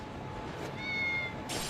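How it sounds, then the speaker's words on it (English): A cat in the video game Lost Judgment gives one short, high meow, near and soft, with a faint background hum and no speech. "Cat."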